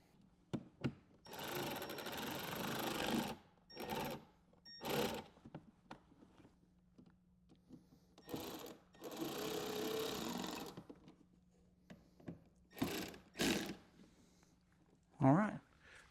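Power driver screwing a latch back onto a 2023.5+ Harley-Davidson saddlebag, several short bursts of whirring, two longer runs and quick zips, close with quiet gaps between.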